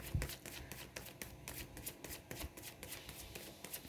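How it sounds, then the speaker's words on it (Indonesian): A deck of tarot cards being riffled and shuffled repeatedly, a rapid papery flutter in short bursts, close and fairly quiet, with no talking. "Kita kocok kartu dulu ya sebelum kita masuk ke ciri-cirinya."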